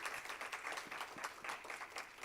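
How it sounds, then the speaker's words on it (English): Faint church audience applause at a Baptist church after a mental health session, scattered individual claps in an irregular patter, sounding sparse and somewhat distant. "another round of applause for Dr. Jaquinda Jackson."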